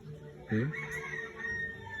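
A single short crow from a rooster, fairly close, rising then falling, with faint background noise and a thin high tone running underneath.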